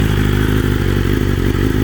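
BMW S1000RR motorcycle engine runs steadily with a loud, deep exhaust drone, a close continuous throbbing rumble with no voices.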